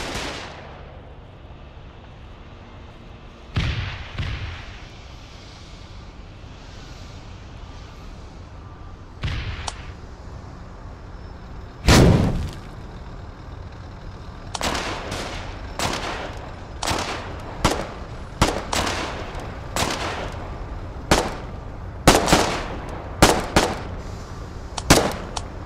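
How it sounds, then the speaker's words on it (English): Mortar and gunfire explosions in the war game Foxhole: a lone blast, then a burst of heavy booms later, followed by a rapid string of sharp reports and thuds against a low rumbling backdrop. "Is that the mortar spontaneously blowing up everything?"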